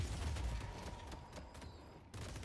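Rapid gunfire in the Deadlock video game rattles as a dense, continuous burst of shots, fairly loud and close, with no talking over it.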